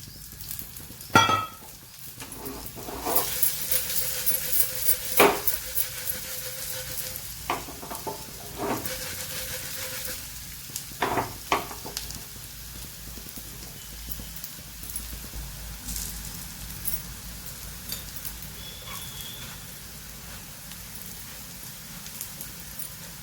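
Cabbage cutlets frying in a pan of oil after being flipped, a continuous crackling sizzle with occasional louder spatters and utensil knocks, no one talking.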